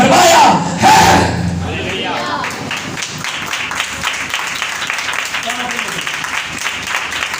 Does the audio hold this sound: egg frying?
no